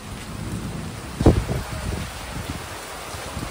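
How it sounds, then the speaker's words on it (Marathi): Heavy rain pours steadily as a dense, rushing hiss, with a sharp thump standing out near the start. "पाऊस आलाय जोरदार, एकदम भारी."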